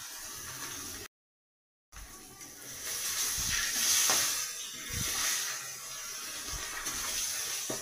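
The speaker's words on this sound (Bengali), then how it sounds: "তেলটা গরম হয়ে গেছে, মাছটা একটু ভেজে নেব" Fish frying in hot oil in a wok for a Bengali fish curry, a steady broadband sizzle and hiss that swells and fades with a few louder spits, close by, after a brief gap of silence.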